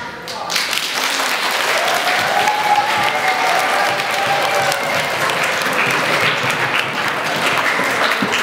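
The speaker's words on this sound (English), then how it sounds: "please give them a warm round of applause" A school audience gives a warm round of applause for two high school students, sustained crowd clapping with a few voices mixed in throughout.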